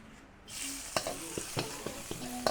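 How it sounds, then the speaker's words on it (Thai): Chili and garlic hit hot oil in a pan, bursting into a loud sizzle after a brief quiet start, then keep hissing steadily while a spatula scrapes and taps several times. "ผัดพริกกระเทียมให้หอมนะครับผม"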